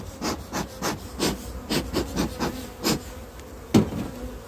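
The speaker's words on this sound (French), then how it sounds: "Alors on va aussi regarder quelques ruches de production." Bees at production beehives give a fairly soft, pulsing buzz, swelling and fading in a quick, uneven rhythm, with one sharper knock near the end.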